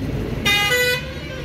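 A truck horn on a highway sounds one loud, harmonic blast of about half a second over the constant rumble of passing traffic.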